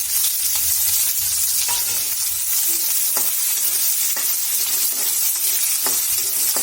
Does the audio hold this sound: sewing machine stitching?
no